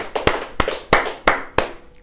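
Church congregation at a Spanish-language evening service applauding, heard as five sharp, evenly spaced loud claps with short decaying echoes in a reverberant hall, no voices over them.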